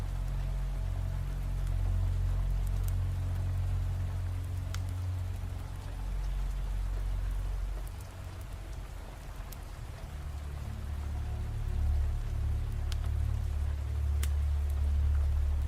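Steady, heavy rain falls in an even, continuous hiss with a deep low rumble beneath. Occasional sharper drops stand out, and the downpour dips briefly midway before returning to full strength.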